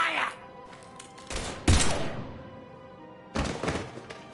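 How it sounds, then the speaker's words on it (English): Gunfire in Mass Effect 3: a few heavy, separated shots ring out with echoing tails, spaced apart over a few seconds amid game ambience. "Now open fire!"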